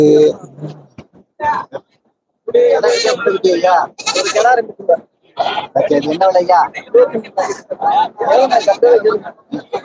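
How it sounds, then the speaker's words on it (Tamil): Goat kids bleating repeatedly at close range at a goat market in Ettayapuram, Tamil Nadu, high wavering cries that overlap with people talking nearby. "மூணு குட்டி ஆடு மூணு குட்டி ஆடு"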